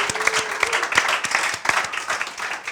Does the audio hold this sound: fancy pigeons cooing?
no